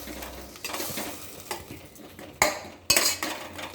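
Tomatoes being stirred as they sauté in a pan for a simple gravy, with a spoon scraping and clinking against the metal over a soft sizzle, including two sharper knocks near the end.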